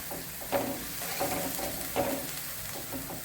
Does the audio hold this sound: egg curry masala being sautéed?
yes